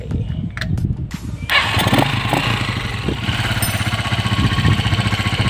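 Small engine after a tune-up: a few faint clicks and cranking, then it catches at about a second and a half and runs at a loud, steady, rapid idle up close, with no clear talking.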